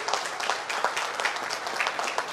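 Audience clapping at a Savitribai Phule birth anniversary function in Karad, hosted by a Dalit federation women's wing, sustained and even across the whole stretch at moderate loudness, with no voice over it.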